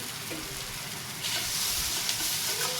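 Dried bombay duck fish fries in a pan with turmeric and salt, making a steady close sizzle and hiss that gets slightly louder partway through, with no voices.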